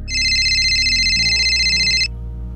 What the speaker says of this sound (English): Now who could this be on this phone at this hour of the night?